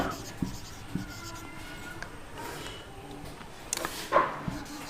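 Chalk or a marker taps and scrapes across a board during a maths lesson on triangles. Short strokes and clicks come at an uneven pace, close and moderately loud.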